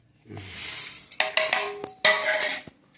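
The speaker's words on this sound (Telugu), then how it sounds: "కందిపప్పు దంచుతున్నారండి రోట్లో" Toor dal pounded in a traditional stone mortar: a dry scraping rub, then several hard, irregular knocks and grinding strikes of stone on stone, close and fairly loud, with no talk.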